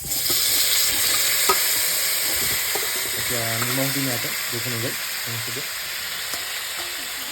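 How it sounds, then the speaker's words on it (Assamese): Boiled pork frying in its own fat in a kadai, with no oil added, a continuous loud sizzle and hiss close up, while a person talks briefly partway through. "বইল কৰি লৈছোঁ আৰু এইফালে কেৰাহী পাতিছোঁ, দি মাংসখিনি তেল নিদিওঁ ইয়াতে"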